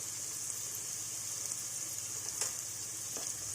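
Ginger, garlic and turmeric frying in hot oil for an arbi masala curry, a steady close sizzle with a few soft clinks of a utensil against the pan.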